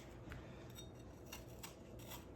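A knife peels skin from an apple for homemade applesauce, giving soft, quiet scraping strokes that repeat every half second or so over a low background hum.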